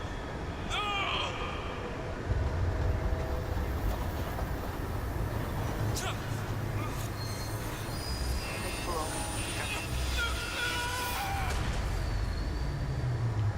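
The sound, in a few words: train running over a man in a video game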